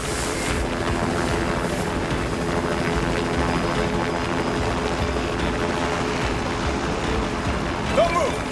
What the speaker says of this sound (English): I can see a helicopter now.